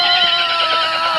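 Cartoon horse neighing in a loud, close, sustained whinny with a wavering, quivering pitch that carries through the whole moment.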